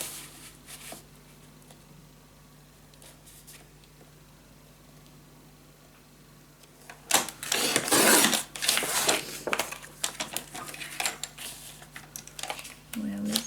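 Paper being cut for a handmade blue gatefold scrapbook mini album, a loud burst of crisp scraping strokes after a quiet stretch, close by.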